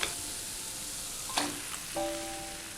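Chicken frying with spices in a pan makes a steady, dense sizzle with a couple of brief scraping clatters as pieces go in, close and moderately quiet.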